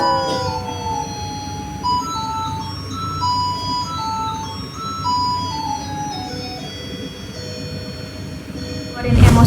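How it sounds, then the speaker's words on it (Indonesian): An alarm clock goes off with a repeating electronic melody of bright beeping tones in a steady pattern, accompanied by a low background rumble. A louder burst of noise arrives at the very end. "Oke, jam gue bunyi."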